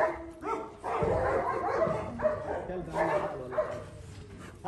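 Several agitated dogs bark and yelp repeatedly at close range outdoors, with whimpers mixed in, while people shout and talk over them.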